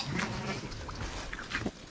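Faint bleating from a sheep, a couple of wavering calls over rustling outdoor background noise.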